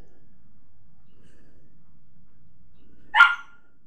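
A single short dog bark at a rat rings out near the end, loud and close after a quiet stretch.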